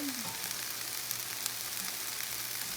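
Steak and onions sizzle together in a hot pan for Philly cheesesteak, a steady close frying hiss with faint crackles and a low hum underneath, no talking.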